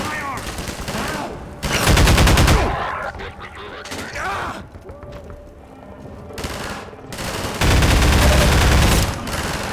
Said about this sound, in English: That's where I'm getting shot from. How many times do I just start shooting them?